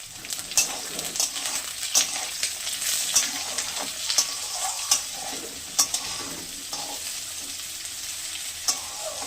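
Chopped onion, chili and whole garlic cloves fry in hot oil with a continuous close sizzle, broken by regular light clinks of a stirring spoon against the pan.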